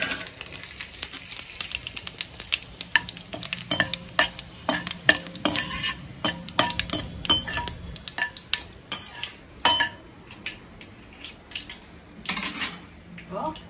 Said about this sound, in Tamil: அது பொரிஞ்சதும் பட்டலவங்கம், பிரிஞ்சி எல்லாம் எடுத்து